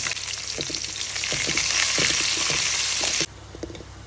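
Cumin seeds, a bay leaf and green chillies frying in hot oil, a loud, close crackling sizzle with scattered pops and stirring taps that drops abruptly to a quieter sizzle near the end.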